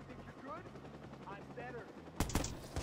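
Watch Dogs gunfire arrives near the end as a few sharp, loud shots after a quieter stretch of game sound.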